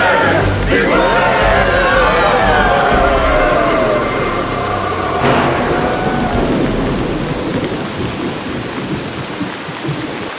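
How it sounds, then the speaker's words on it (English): A cartoon-style rain and thunder sound effect: a steady loud downpour with a deep rolling thunder rumble and a second crack midway, fading slightly toward the end. "Is it raining in there? It's raining out here too."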